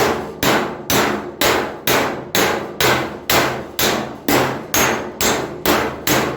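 Sheet metal on a vintage car body tub is hammered against a dolly behind the panel in a steady rhythm of about a dozen sharp, ringing blows, close and loud, with no talk.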